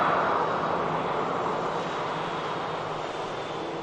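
A departing airliner at Manchester Airport gives a steady, broad jet engine roar that holds loud throughout, then eases off slightly as the aircraft moves away.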